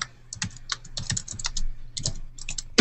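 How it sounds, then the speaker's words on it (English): Computer keyboard typing picked up through a video conference call, a quick irregular run of close, crisp key clicks with brief pauses. "We can not only see him typing, but we can hear him typing as well."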